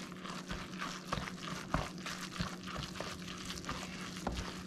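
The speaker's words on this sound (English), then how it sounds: "We're going to add two eggs. We're gonna mix this up." Two eggs are stirred into a speckled trout lumpia filling, giving soft, wet squelching and scraping from a spoon working through the mix, close and steady, with no voices.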